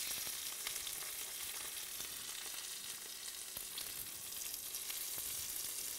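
Seasoned royal prawns searing in a hot pan, a dense, steady, close crackling sizzle with a few faint clicks, no speech.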